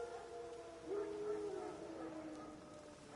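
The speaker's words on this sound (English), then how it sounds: "No. Wild dogs." Wild dogs howling in the video game The Witcher 3, a drawn-out howl rising and fading at moderate distance over a steady ambient background.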